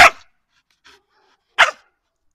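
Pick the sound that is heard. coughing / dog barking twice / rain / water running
dog barking twice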